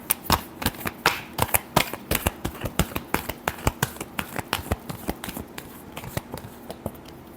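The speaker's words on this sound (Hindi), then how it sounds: "Last shuffle." Tarot cards being shuffled close up, a rapid series of crisp slapping riffles in an uneven rhythm that thins out toward the end.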